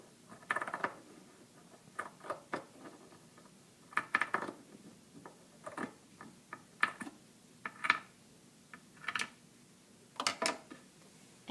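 Scissors cut through layers of fabric along a seam for shorts. The cuts come as a close, quiet series of crisp snips in a loose, steady rhythm, with no talking.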